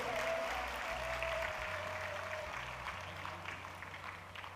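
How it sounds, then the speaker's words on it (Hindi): Applause from a large crowd at a devotional discourse welcomes a singer, a steady wash of clapping heard from a distance that slowly thins toward the end. "एक बार जोरदार तालियां उनके स्वागत में"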